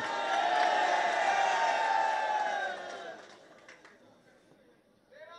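A rally crowd roars and chants slogans loudly for a few seconds, then the noise fades to scattered voices and murmur.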